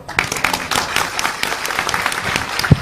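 A gathered audience breaks into close, lively applause, dense overlapping claps with a few sharper individual ones, steady throughout.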